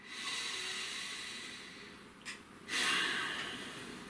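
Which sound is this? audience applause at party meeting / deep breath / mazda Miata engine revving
deep breath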